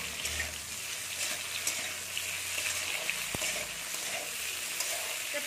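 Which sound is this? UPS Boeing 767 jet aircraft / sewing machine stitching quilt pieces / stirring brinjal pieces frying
stirring brinjal pieces frying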